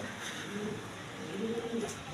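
Rajgolla pigeons on a farm coo softly in low, rolling calls repeated over a couple of seconds, close by and alone without speech.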